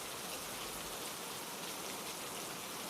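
Heavy rain pours down steadily in a dense, even hiss on a stormy night, continuous and moderately quiet, with no voices.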